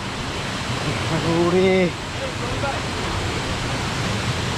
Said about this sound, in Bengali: একদম ছোট একটা ঝর্ণা,